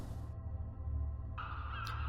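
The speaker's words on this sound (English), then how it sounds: "Many birds circle in the sky overhead." Crows caw over a beach in The Last Door video game, a couple of short harsh calls above a constant low droning ambience, fairly faint and without speech.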